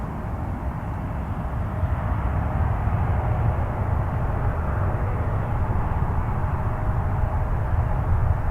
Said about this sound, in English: Max 8 coming in. Swoop livery.